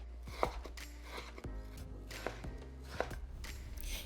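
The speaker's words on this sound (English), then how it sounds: "We're also going to cut it against the grain or the direction of the muscle" Beef sliced into strips against the grain with a knife, giving a few sharp cuts onto a board amid low kitchen hum, no voices.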